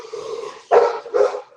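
Cosmo, a dog, gives two loud close barks after a low growl, the second bark slightly softer and shorter than the first.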